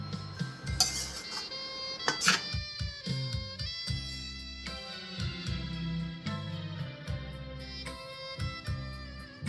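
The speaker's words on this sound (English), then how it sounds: "And let's fry the rice very well." Goan sausage fried rice is stirred and fried in a pan, with a continuous run of metallic spatula scrapes and clinks against the pan, fairly close and steady, with no talking.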